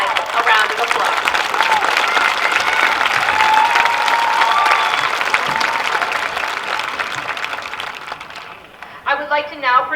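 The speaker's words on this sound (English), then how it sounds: "Let's give our early grads a round of applause." A graduation crowd at a high school commencement gives loud, sustained applause with scattered cheers, filling the space for most of ten seconds before tapering; a voice begins speaking near the end.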